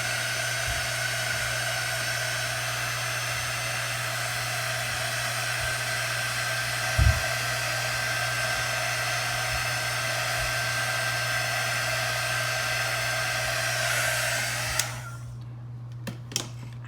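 A hair dryer blows steadily and loudly on a thrifted popcorn bin being refurbished, a continuous whirring drone with a faint whine that holds for about fifteen seconds before cutting off.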